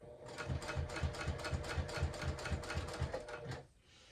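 A sewing machine topstitches a fabric clutch bag in a fast, even run of needle strokes, close and steady, then stops abruptly at the end.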